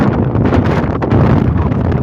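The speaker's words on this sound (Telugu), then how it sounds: "గాలి కూడా తీవ్రంగా ఉంది." Strong wind buffets the microphone in a loud, continuous rumbling roar, high up over Doha city.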